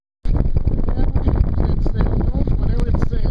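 Wind gusts batter the microphone by Lake St. Louis, a loud steady roar with rumbling buffets throughout, while a person talks over it.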